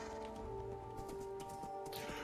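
Steady clip-clop of horse hooves in Minecraft over a busy game background with tonal music, continuous and moderately loud.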